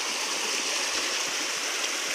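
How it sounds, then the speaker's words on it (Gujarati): Fast-flowing canal water during heavy rain, a continuous loud rushing hiss of water running alone and steady throughout. "કેવું પાણી સ્પીડમાં જાય."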